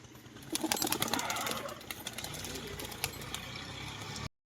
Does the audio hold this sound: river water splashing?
no